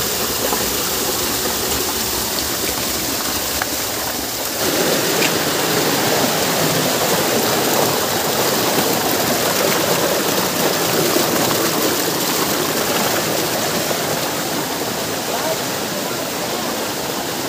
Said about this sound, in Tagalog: Sa kagusan ng tubig, no?